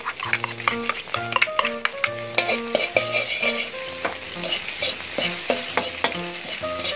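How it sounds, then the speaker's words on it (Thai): Chopped chili and minced garlic stir-fry in a hot pan after the eggs, sizzling as a spatula scrapes and clanks against the metal in quick repeated strokes, close and loud with no talking. "ผัดให้กระเทียมหอมนะครับ"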